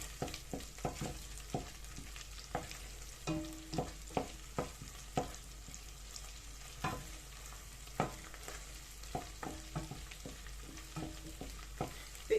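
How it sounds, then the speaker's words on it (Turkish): Tomato and pepper paste frying in a pot with mint for Turkish yüksük soup, a soft sizzle under frequent sharp spoon clicks and scrapes against the pan, fairly quiet and without speech. "domates ve biber salçası karışımı ilave ediyorum ve salçamızı da biraz kavuruyoruz"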